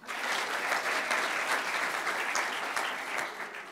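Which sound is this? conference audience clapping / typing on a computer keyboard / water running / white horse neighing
conference audience clapping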